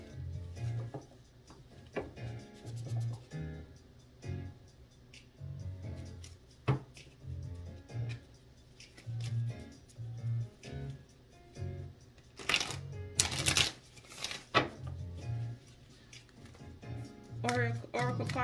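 Cards are shuffled repeatedly in quick papery riffles and taps, close by, with a few louder rustling bursts and quiet speech.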